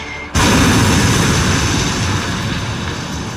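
An artillery barrage shell from the game Panzers strikes a tank, a sudden loud boom after a brief quiet, followed by a sustained rumbling roar that slowly fades.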